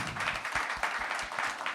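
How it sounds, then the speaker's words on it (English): A crowd at a Denver tech conference applauds a panel, giving sustained, fairly even clapping with a few sharper individual claps standing out. "let's give the panel a round of applause,"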